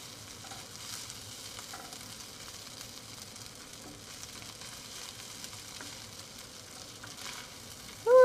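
Frozen garlic is stirred in a frying pan for a stir fry, making a faint, steady sizzle with soft scraping throughout and a sudden louder clatter at the very end.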